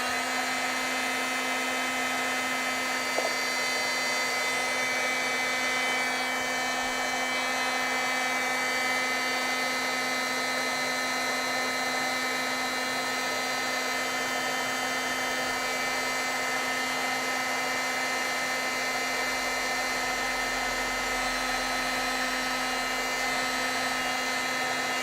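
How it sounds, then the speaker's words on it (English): A heat tool blows steadily while heat setting and drying ink on a stamped mirror card. It gives a continuous whirring hum with a high whine, unbroken and fairly close for the whole stretch. "let's go ahead and heat set this"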